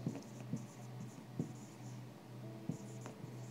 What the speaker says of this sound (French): Je vous écris la transcription.